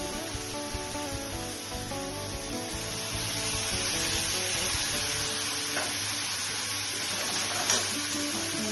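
Coconut paste frying in hot oil for a prawn and tondli curry makes a steady, close sizzle and crackle over faint background music, growing slightly louder partway through, with a brief clatter near the end.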